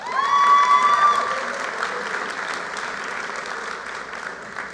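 A graduation ceremony audience for the Davis School for Independent Study in 2023 breaks into steady applause, fairly distant and sustained, with a brief tonal sound at the start and little talking.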